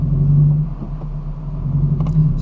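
Close, steady exhaust drone from a Subaru FRS fitted with a Nameless Performance front pipe: an even low rumble holding at a constant pitch with slight swells and no revving.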